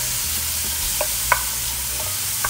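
Onions and garlic gently sizzling in a pan as the base for lentil soup, a soft steady hiss with a few light clicks and taps, close and without talk.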